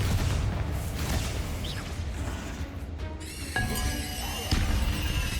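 A Confringo blasting spell goes off in Hogwarts Legacy: a sudden whooshing burst and boom midway through, ringing out over a dense, continuous game soundscape.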